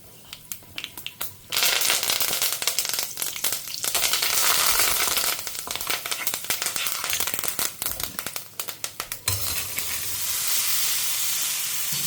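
Chickpea sundal being tempered in hot coconut oil during a home cooking session, loud crackling sizzle and sharp popping spatters that come in dense bursts, settling into a steadier hiss near the end, with no talking.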